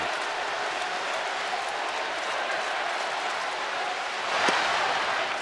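Distant college baseball crowd at a Boston at Washington game, a steady roar of many voices shouting over one another, sustained throughout with a brief swell near the end.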